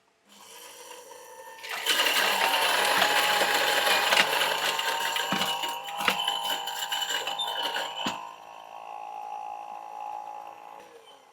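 A coffee grinder running for about five seconds to grind 5 grams of beans at a fine setting, a loud, close, buzzing motor whine that starts abruptly, holds with crunching, then fades as it winds down.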